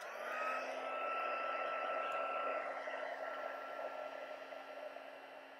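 A heat tool blows hot air onto vellum paper for embossing, a steady, loud whirring hiss with a constant tonal whine, held throughout and tapering slightly toward the end.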